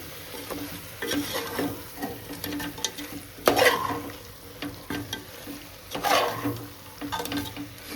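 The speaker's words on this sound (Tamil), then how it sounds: "நல்லா மசாலாவோட வெந்துட்டுருக்குங்க." Chicken biryani masala simmering and being stirred in a pot, with a steady close sizzle and repeated scraping stirs, one louder scrape near the middle, no talk.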